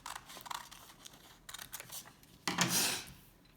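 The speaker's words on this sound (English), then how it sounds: "take this and cut on the other line." Scissors cutting through origami paper, several brisk close snips and a crisp slicing stroke near the end, with no talk.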